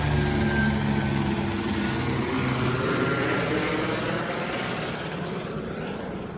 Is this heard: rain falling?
no